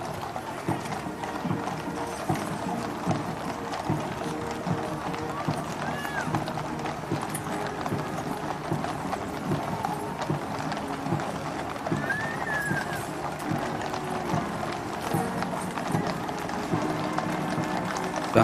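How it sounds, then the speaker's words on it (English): Horses walk in Queen Elizabeth II's funeral procession, hooves clip-clopping steadily on the road with an occasional whinny, over a continuous crowd and outdoor murmur with some distant voices. "Some of the horses, understandably, a little restless at this long, slow walk"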